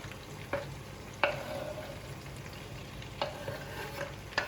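Sliced potatoes and onion fry together in a pan for a Spanish tortilla de patata, a soft steady sizzle punctuated by four or five sharp spatula knocks and scrapes as they are stirred, with no voices.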